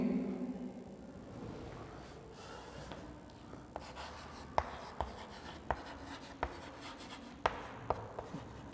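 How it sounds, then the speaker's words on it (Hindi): Marker or chalk writing on a classroom board during a cell biology lecture, with a steady scratchy stroke texture broken by several sharp taps as letters are finished, fairly close and alone without talk. "इसको अपन इंग्लिश में लिखेंगे"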